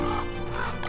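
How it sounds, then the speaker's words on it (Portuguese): A bird burning in the survival video game Don't Starve gives a short burst of gobbling, squawking fowl-like calls over a dense, busy game soundtrack. "Olha o pássaro pegando fogo."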